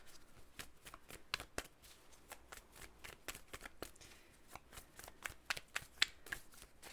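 Tarot cards are shuffled by hand in a quick, uneven run of crisp riffling snaps and flutters, close and fairly quiet, with no voice over them.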